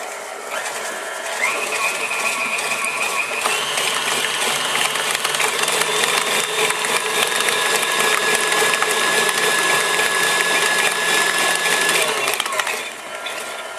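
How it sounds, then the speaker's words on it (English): An electric mixer beats cream cheese and three-quarters of a cup of sugar for mini cheesecakes, a loud, steady whirring hum that holds for about ten seconds before easing off. "Now we're gonna beat these together until light and fluffy."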